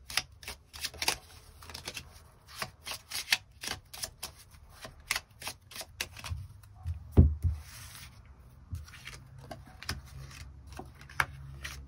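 Tarot cards shuffled and laid down in quick dry riffles and snaps, close and fairly quiet, with a few soft taps and thuds of cards being set on a surface.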